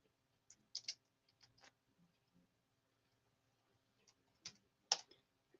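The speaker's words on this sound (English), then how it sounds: "Why you stop typing?" Sparse clicks of typing on a computer keyboard come in small bursts with long quiet gaps, close and faint in an otherwise silent room.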